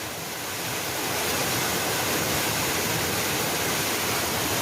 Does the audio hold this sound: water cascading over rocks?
yes